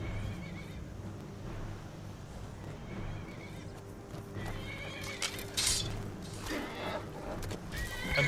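Roach, a horse in the video game Skyrim, neighs and stamps its hooves amid steady game ambience, with whinnies rising near the end over a low background rumble.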